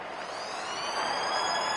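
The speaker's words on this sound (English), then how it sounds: "There's the siren for half-time." Half-time siren in a rugby league video game, a steady sustained wail holding near-constant pitch for the whole span with no speech over it.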